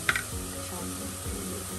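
Chopped onion sizzles steadily in hot oil in a pan with whole spices for a snakehead fish curry, a continuous close frying hiss with a couple of stirring scrapes and a person talking over it.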